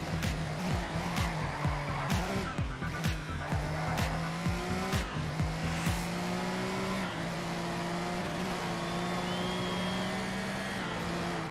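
Race car engines whine and rise through gears in the GRID racing game, with repeated tire squeals and skids over the first six seconds before a steady engine drone carries on alone.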